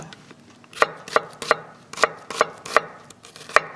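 A knife chops an onion into thin julienne strips on a cutting board, about eight sharp, evenly spaced thuds ringing out close and clear with no voices.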